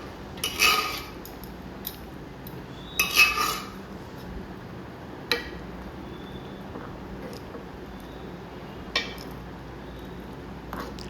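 A spoon clinks against a pot while mashed cooked dal and cooked vegetables are mixed for sambar. Two short clusters of clinks come early, then a few sparse, faint taps over a quiet background.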